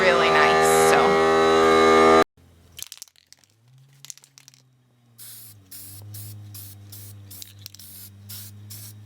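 Critter spray gun painting dresser handles: a loud hissing spray burst opens, then quieter clatter, a low hum and a series of short rhythmic spray puffs.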